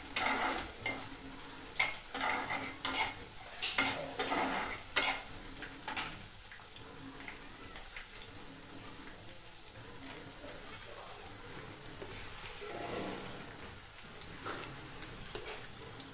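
Peanuts sautéed in a pan, stirred with a metal utensil: repeated scraping clinks over a steady faint sizzle, busier at first and then settling into quieter frying.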